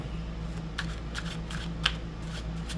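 Tarot cards being shuffled, a soft close-up riffle of quick papery flutters and taps over a faint steady hum, with one sharper snap partway through.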